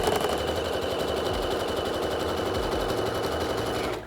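A sewing machine zigzag-stitches a trouser seam, running nonstop in a fast, even mechanical rattle up close, then stopping right at the end.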